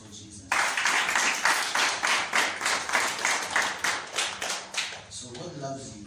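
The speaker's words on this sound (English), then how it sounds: "Clap hands for Jesus." A church congregation claps hands in a rhythmic, fairly regular beat of about a dozen strong claps, loud and close, fading toward the end as a voice begins speaking.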